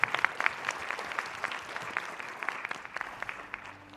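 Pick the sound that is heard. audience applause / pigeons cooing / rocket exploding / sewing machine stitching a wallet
audience applause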